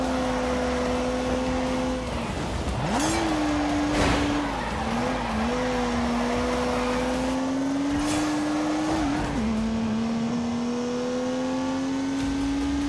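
A turbocharged 3-litre straight-six car in the Grand Tour game revs hard and steadily with a loud engine tone, shifting pitch through gear changes and throttle lifts, with brief tyre squeals.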